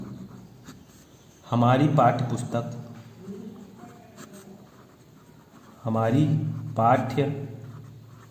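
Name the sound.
writing Sanskrit notes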